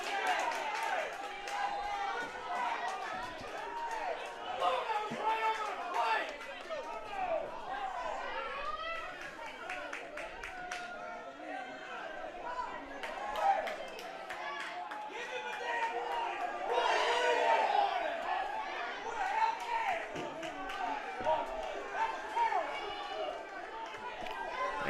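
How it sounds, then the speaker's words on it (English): A college baseball crowd at a USC Aiken game grumbles and chatters unhappily on a full count, a restless murmur of many voices with scattered shouts rising and falling under a nearby announcer's talk. "Racer crowd is not happy right now."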